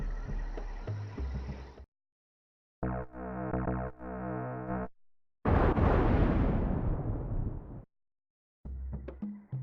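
Fire attack spell burning an enemy in the Secret of Evermore video game: a loud, dense roaring whoosh that fades out over about two seconds, set between separate game music and effect sounds with no talking.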